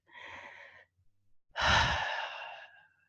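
A person takes a slow, deep calming breath, a soft airy inhale followed after a brief pause by a longer, louder sighing exhale, close and alone.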